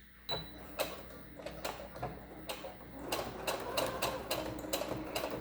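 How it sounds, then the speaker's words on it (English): A sewing machine stitches the pleat of a cloth mask in a quiet room, its needle ticking in short bursts at first and then settling into a quick, steady mechanical chatter up close. "then you can just start sewing down the raw edge"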